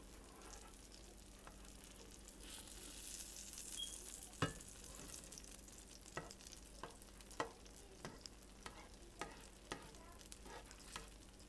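Butter melts and sizzles in a wok-style pan for butter garlic shrimp with asparagus, a soft steady frying hiss broken by occasional sharp clicks and taps of a utensil against the pan.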